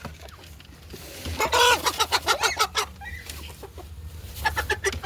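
A rooster clucks and squawks in a rapid run of loud, close calls, a burst of agitated clucking that tapers off and returns.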